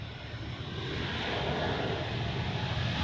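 A passenger airplane takes off at Zurich Airport, a broad engine roar that swells steadily and holds loud at a moderate distance with no talk over it.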